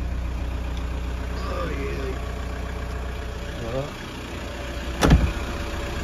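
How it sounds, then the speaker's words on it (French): A VW Golf 4 with a 1.9 TDI diesel engine idles in a steady low clatter, someone speaking briefly over it and a short sharp knock near the end. "Le moteur a l'air de bien tourner"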